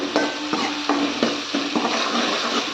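Prawn thokku masala sizzles and frys in sesame oil while a utensil stirs through the pan in repeated scraping strokes, close and steady with no talking.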